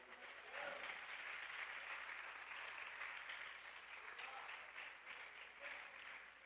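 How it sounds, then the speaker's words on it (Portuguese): Faint, steady applause from a church congregation during a worship service, a continuous wash of many hands clapping that runs throughout. "Aplauda Ele porque Ele é bom."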